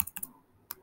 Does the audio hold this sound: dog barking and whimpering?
no